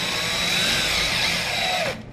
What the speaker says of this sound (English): I want to just take my drill